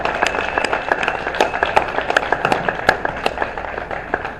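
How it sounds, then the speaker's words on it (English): Applause from an audience at a veterans' ceremony where a 1966 Corvette Stingray is presented, a dense run of claps filling the clip at moderate level with sharper individual claps standing out. "Give them a round of applause"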